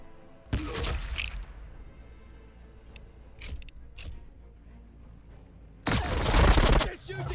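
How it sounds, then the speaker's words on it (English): Gunfire bursts in Warhammer Battlesector, sharp volleys at the start and a louder sustained barrage near the end, with quieter battle noise between. "They're shooting back!"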